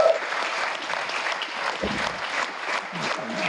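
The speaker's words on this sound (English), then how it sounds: "Standing ovation from some of the front row who are delighted with his win" A crowd at a men's over-40 final gives the winner a standing ovation, sustained clapping from many people at moderate distance, with a faint voice or murmur beneath.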